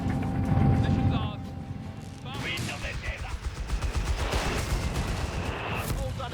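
Scattered gunfire and battlefield mechanical clatter from a Company of Heroes 3 match, Afrika Korps against British forces, with shots popping steadily under a busy mix of vehicle rumble and effects.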